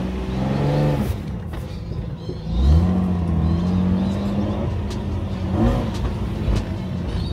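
A Lexus IS200 pulls away with its engine revving up through rising gear changes, the engine note climbing, dropping and climbing again, heard from inside the car at moderate loudness.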